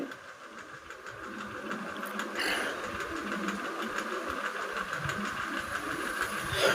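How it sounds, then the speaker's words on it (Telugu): Moving train heard from inside a carriage: a steady rumbling roar with rhythmic rattling and knocking of the wheels, continuous and close, with no talk. "ట్రైన్లో పోతూ తీయడం అనమాట ఈ వీడియో"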